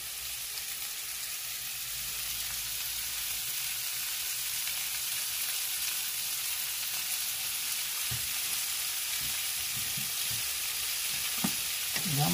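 Chicken fajitas for tacos sizzle and fry steadily in a pan, a continuous close hiss with occasional stirring clinks and scrapes toward the end, no talking.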